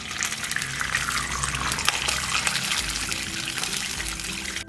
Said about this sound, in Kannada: ನೀರು ಹಾಕ್ಕೊಳ್ಳೋಣ.